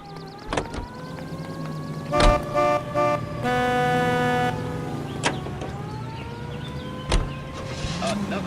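Car in L.A. Noire with engine running and tonal horn-like honks and blaring toots over a steady motor, several sharp knocks and clunks scattered through, no talk.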